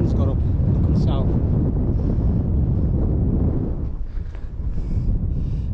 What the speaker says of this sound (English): That wind's got up, looking south.